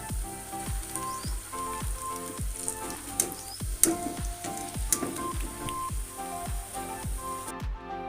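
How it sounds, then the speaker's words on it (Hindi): Onion and potato pakoras fry in hot oil with a steady bubbling sizzle, scattered pops and a repeating scrape-like rhythm, close and alone with no talk. "इस तरह हम सबको फ्राई करेंगे"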